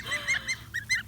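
Young goslings peep and honk in a string of short, high calls, about five bursts in quick succession, close by and loud with no talk over them.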